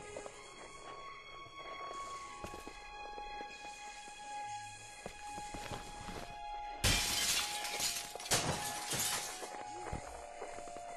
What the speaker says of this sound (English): best guess is we gotta throw this at the glass window